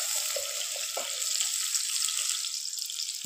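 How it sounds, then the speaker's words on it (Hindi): Onions sautéing in a pan for a beetroot and ground beef skillet, a steady soft sizzle with a couple of faint clinks near the start. "प्याज को हम थोड़ा सा सोते करेंगे"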